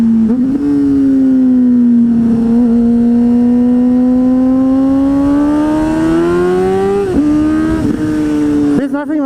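A 600cc motorcycle engine revs loudly up close while being ridden, its pitch climbing and dropping across several gear changes, with strong wind noise.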